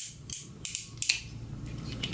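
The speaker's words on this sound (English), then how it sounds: "His legs are ratcheted both ways." Ratcheted leg joint of a Mastermind Creations R06 Tigris robot toy figure, giving a short run of crisp plastic clicks and creaks at close range, several quick ratchet steps in about two seconds.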